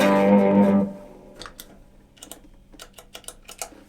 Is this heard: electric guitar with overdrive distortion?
yes